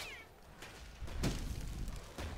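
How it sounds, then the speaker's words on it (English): Bastet's cats in the video game Smite let out several short, close meows amid busy game noise and thumps, with no voices over them. "Puka, your kitties are the worst!"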